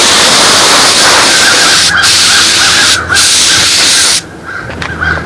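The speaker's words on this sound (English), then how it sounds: "These crows are really having a great time here." Crows caw repeatedly and loudly against a steady hiss of wind, with the calls continuing as the background noise drops away near the end.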